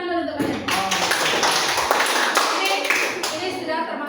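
Students in an English lesson clap their hands together in a classroom, a steady burst of group applause lasting about three and a half seconds before fading out.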